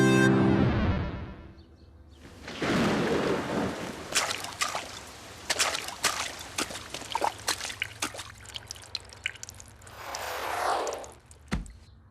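Rain and thunder in an animated cartoon, with a burst of falling rain, scattered sharp crackles and splashes, then a swelling rumble near the end, fairly loud against brief quiet gaps.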